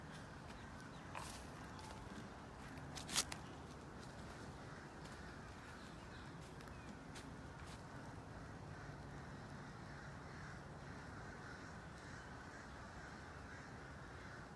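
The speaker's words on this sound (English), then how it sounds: "Those are birds. You ever heard birds like that? They have crows in Ohio." Crows cawing in Ohio, faint and distant, a few scattered calls over a steady low background hiss with one brief louder burst early on.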